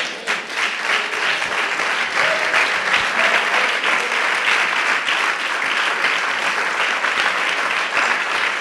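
A church congregation applauds during a Spanish-language sermon, with steady, dense clapping that is sustained and fairly loud throughout and no voices over it.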